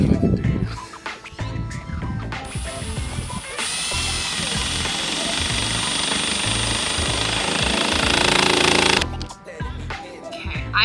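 A power drill drives screws into a Ventadome roof vent on an RV, a loud, steady whirring burst lasting several seconds, preceded and followed by quieter scattered handling clatter.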